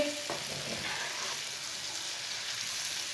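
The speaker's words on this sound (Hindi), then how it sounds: "अब इसमें सब्ज़ मिर्च डालेंगे। सब्ज़ मिर्च को भी 2 मिनट के लिए पका लेंगे।" Green chillies sizzle in oil with spices for a mixed pickle, an immediate loud frying hiss that settles into a steady crackle, with a brief stir at the start and no talking.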